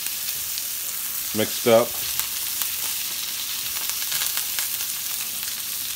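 Butter, garlic and thyme sizzle in a pan with ribeye steaks, a loud, steady frying hiss throughout, with a brief spoken phrase early on.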